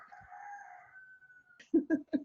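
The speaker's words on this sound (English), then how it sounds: "If you hear the roosters in the background" A rooster crows in a long drawn-out call among many chickens, followed by three short, loud clucking bursts close by.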